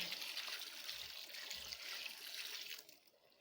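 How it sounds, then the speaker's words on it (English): Water splashes steadily into a cooking pot of vegetables, a soft continuous pour that thins out near the end. "So at this point I'll add a little water."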